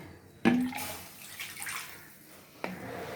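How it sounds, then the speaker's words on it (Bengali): Water poured from a bowl into a pot of curry, a sudden splash and gurgle that fades, followed by a second short pour near the end. "এবার আমি জল দিচ্ছি।"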